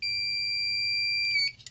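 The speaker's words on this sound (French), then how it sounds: "Si l'appareil il fait un bip," An electrical tester beeps while checking earth continuity on wall outlets: one loud, steady high-pitched tone holds for about a second and a half, then cuts off into faint handling noise.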